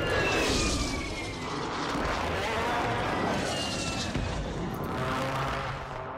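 A hostile Mosquito bomb drone from the Warzone video game on Rebirth Island buzzes overhead, a steady loud whining drone that stays present throughout, mixed with a dense wash of game noise.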